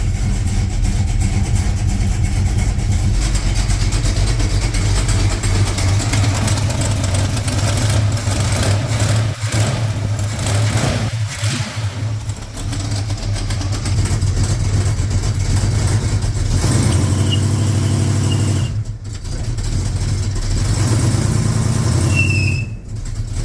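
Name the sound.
1968 Mercury Cougar Cleveland V8 engine running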